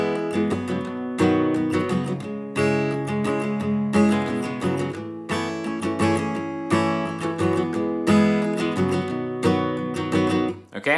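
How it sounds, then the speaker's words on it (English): Acoustic guitar strums the chord pattern of a song in a steady, rhythmic groove with regular accented hits, heard up close with no voices. "So the first part is going to sound like this."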